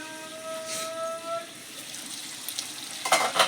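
Potatoes sizzling with spices in a pan, a steady soft frying hiss with a brief whistle-like tone early on and a few louder stirring clatters near the end.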